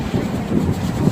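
Strong outdoor wind buffets the microphone during an Eachine QX90C micro drone flight, a loud, low, continuous rumble with gusty swells and no talk.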